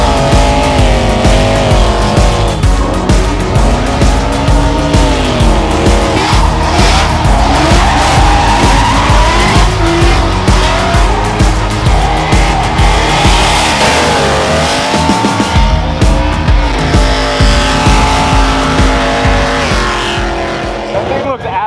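An off-road race car built as a cross between a Baja racer and an Ultra 4 King of the Hammers car drifts loudly and close by, with sustained tire squeal and a revving, roaring engine, under shouting from onlookers.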